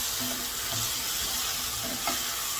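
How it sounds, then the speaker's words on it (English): Herbs such as marjoram and thyme sauté in a pan for vichyssoise soup, a steady close sizzle with faint stirring movement throughout. "Give it a nice saute."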